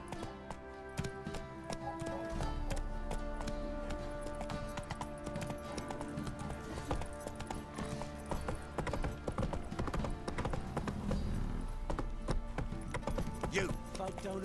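Horse hooves clip-clopping in a steady, quick rhythm in The Witcher 3: Wild Hunt, over a continuous musical backdrop, with brief voices calling to the horse.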